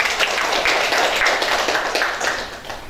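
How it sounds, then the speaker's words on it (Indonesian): Applause for a speaker at a fiction-writing workshop at MA Al Imdad Putri: a dense, steady patter of many hands clapping close by, fading slightly near the end, with no talking. "tepuk tangan untuk Bang Teddy"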